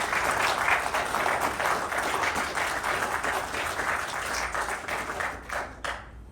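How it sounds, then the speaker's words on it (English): Audience applause for a guest speaker at an aviation history society talk in Toronto, a steady wash of many hands clapping that fills the room, then thins and fades toward the end. "I think the round of applause is due to Martin."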